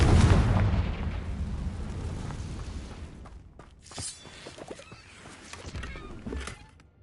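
A Confringo fire spell blasts in Hogwarts Legacy, a loud booming explosion opening with a heavy rumbling roar that slowly fades, followed by scattered smaller crackles and impacts.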